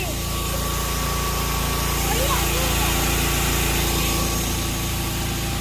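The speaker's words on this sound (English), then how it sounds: "I might need more speed on my motor" A small motor runs continuously in an outdoor field setting, a steady, loud whirring hum with a constant buzzing tone and no breaks across the whole stretch.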